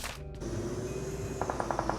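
Gunfire in the shooting game PUBG Mobile: a short close burst at the start, a sustained tone, then a rapid series of about eight evenly spaced shots in quick rhythm.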